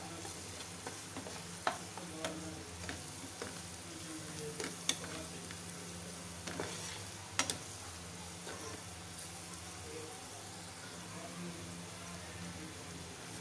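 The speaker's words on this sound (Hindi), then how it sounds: "दो मिनट के लिए ऐसे फ्राई करेंगे।" Food fries steadily in a pan for a quick home-cooked recipe, a continuous close sizzle with occasional sharper crackles and spoon taps, no voices.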